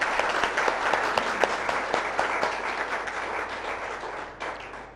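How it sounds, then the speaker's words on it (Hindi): Loud, sustained applause from an audience at a health centre gathering thanking a female guest, dense clapping throughout that thins slightly toward the end. "जोरदार तालियां हो जाए हमारी बहनी।"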